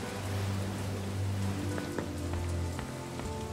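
Steady in-game rain pours down as a dense continuous hiss, accompanied by a low droning tone and soft scattered ticks.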